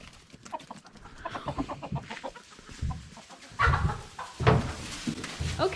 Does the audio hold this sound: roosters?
yes